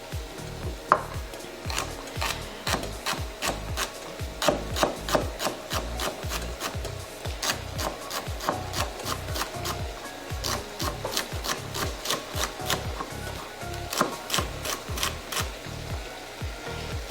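A knife chops celery into big hunks on a cutting board, a steady run of crisp, evenly spaced thuds continuing for many seconds, close and clear with no talking.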